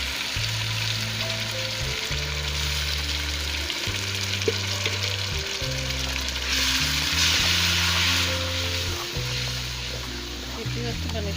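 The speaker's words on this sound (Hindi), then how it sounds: "ये टमाटर और प्याज शामिल कर रही हूँ, ये मैंने ग्राइंड किया।" A ground tomato and onion paste fries in a karahi with a strong, close sizzle that swells briefly, accompanied by steady stirring and scraping.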